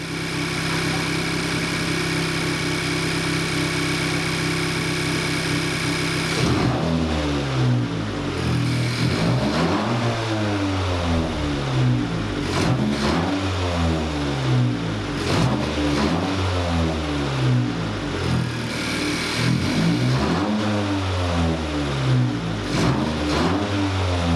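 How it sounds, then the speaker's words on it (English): A 2017 Honda Civic Si with a PRL Cobra intake idles, then revs up repeatedly in rising bursts to 1K, 2K, 3K and 4K rpm, each rev climbing and falling back, loud and close with a throaty intake roar. "then we'll do some revs, 1K, 2K, 3K, and 4K."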